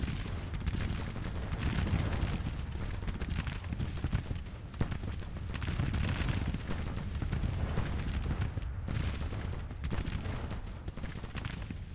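Massed Civil War rifle volleys and scattered musket fire crackle continuously in the Grand Tactician strategy game, a dense, steady battle din with distant cannon-like booms throughout and no clear speech.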